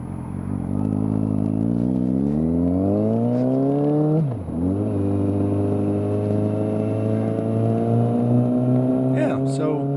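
A Suzuki GSX650F motorcycle is ridden, its engine rising steadily through a gear, briefly dipping at a shift, then droning on loud and close with wind noise.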